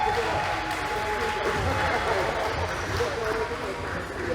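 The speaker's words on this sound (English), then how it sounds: "Give them a round of applause, ladies and gentlemen." A crowd applauds the players after a netball-style match between the Sunshine Girls and Jamaica men, dense steady clapping throughout with some voices mixed in.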